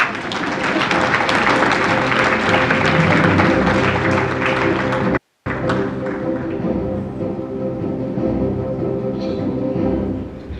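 A conference audience at the Inclusive Africa Conference 2024 applauds after a panel discussion: dense, steady clapping fills the hall for about ten seconds, broken by one brief cutout, then continuing slightly softer.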